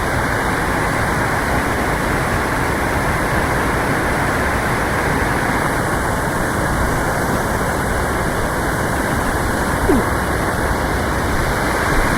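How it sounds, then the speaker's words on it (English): Bull Sluice, a whitewater rapid on the Chattooga River, roars steadily and loudly, a dense, unbroken rush of churning water filling the whole stretch without pauses. "Bull Sluice is one of those rapids that's always good to scout your first time"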